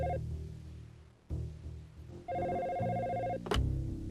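A telephone ringing in the video game Dino Crisis: electronic ring tones start, pause, then resume as a sustained tone, ending in a sharp click, with a steady background hum throughout.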